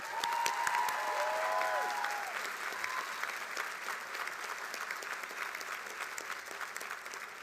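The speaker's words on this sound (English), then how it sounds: "join me in a big round of applause for our faculty" Commencement audience applauds the faculty at a college of arts and sciences graduation, a dense sustained clapping from a large crowd that starts strong and eases slightly, with a few whoops carrying over the top.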